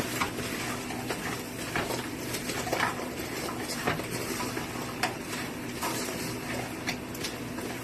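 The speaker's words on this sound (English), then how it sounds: "I'm going to stir it around." Sweet and sour pork is stirred in a pan, giving irregular scraping and light clinks of a utensil against metal over a constant sizzling hiss, close and moderately loud, with no talk.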